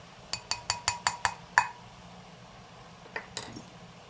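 A whisk clinks against a bowl while mixing yeast with white flour, seven quick even taps in a steady rhythm, then a pause and two more clinks, close and fairly quiet.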